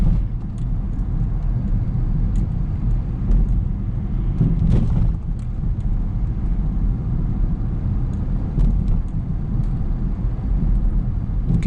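A 2015 Dodge Journey SXT SUV on the road, heard from inside as a steady low engine and road rumble with faint ticks and knocks over the top, continuous throughout.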